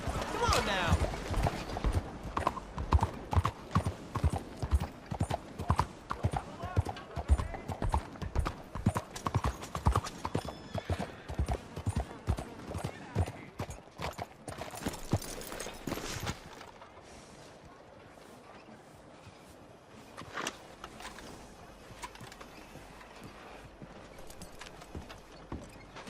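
Horse hooves galloping in Red Dead Redemption II, a fast, close rhythmic clip-clop that runs for about fifteen seconds and then slows to a quieter walk, with a voice calling out and music underneath.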